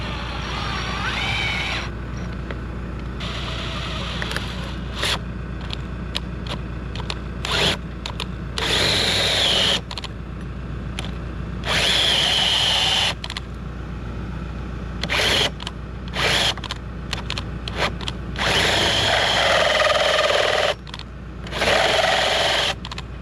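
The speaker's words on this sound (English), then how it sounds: "Let me drill it." Electric power drill drilling outdoors at a tiny off-grid house, loud bursts of whining motor starting and stopping repeatedly over about twenty seconds, with short pauses between runs.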